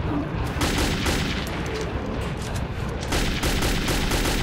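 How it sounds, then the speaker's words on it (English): Dense machine-gun fire in the Metro 2033 video game, loud continuous bursts with heavier booming shots mixed in, sustained without a break. "I will shoot every one of you."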